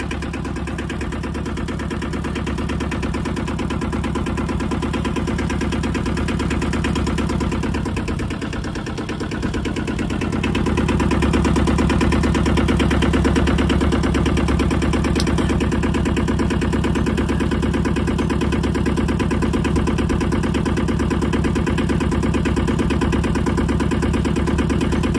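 A sailboat's inboard engine with a leaking stern gland and an alternator problem runs steadily throughout, a continuous mid-pitched drone with a slight dip and swell partway through, loud and close with no talk over it.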